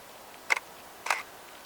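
A camera on a tripod, fired with a cable release during winter landscape shooting, gives two crisp mechanical shutter clicks about half a second apart, close and isolated in quiet outdoor air.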